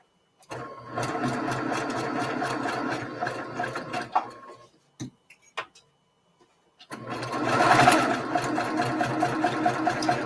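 A sewing machine stitches a seam on a Star Flower quilt block, running in a steady, close whir, stopping for a few quiet seconds with small clicks and taps, then starting again more loudly.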